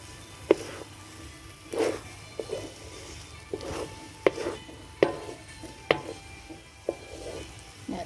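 Sticky rice with coconut milk being stirred in a pan for Thai khao tom mat. A spoon scrapes and knocks against the pan in irregular strokes, with soft, thick squelching between the sharper taps.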